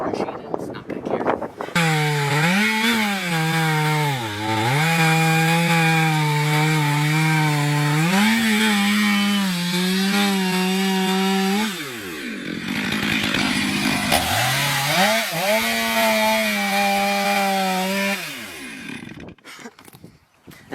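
A chainsaw bores deep into a large tree during felling, its engine loud and close, holding steady under load, dipping and bogging as the bar sinks in, then revving back up.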